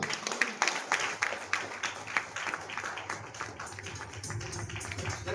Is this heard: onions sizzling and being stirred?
no